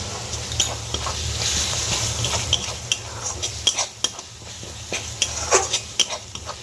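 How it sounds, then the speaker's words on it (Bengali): Spice paste of tomatoes, turmeric, Kashmiri chili, cumin and coriander powders for chicken do pyaza is stirred and fried in a pan, with a soft steady sizzle under repeated sharp spoon scrapes and clinks against the metal; no voices. "এই মশলাটা আস্তে আস্তে কষিয়ে নেব"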